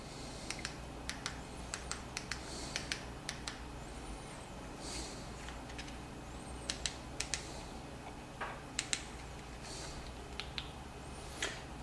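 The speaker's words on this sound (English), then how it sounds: "You will type in your password using the keys on this remote" Buttons on a TV remote are pressed one after another to enter a password, producing faint, close plastic clicks in irregular small bursts over a quiet hum.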